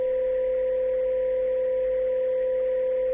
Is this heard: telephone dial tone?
yes